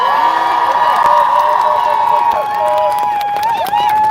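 Crowd at a Palestine protest in Leeds cheering loudly, a dense roar of whoops and shouts from many voices, close and sustained, with higher individual yells and whistle-like cries rising over it.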